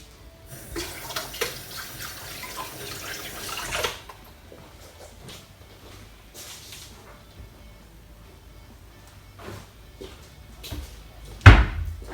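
Running tap water splashes into a kitchen sink for a few seconds while hands are washed, followed by quieter handling noises and a sharp knock near the end.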